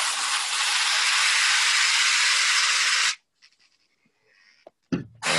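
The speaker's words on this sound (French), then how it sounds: "Toujours dans un sens, on met la vapeur et dans l'autre sens, on ramasse." A steam cleaner blasts a loud, steady hiss of steam onto an exterior surface for about three seconds, then cuts off abruptly, followed by quiet faint handling noises and another brief burst of hiss at the end.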